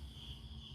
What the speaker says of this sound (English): Yeah, Renee, the crickets.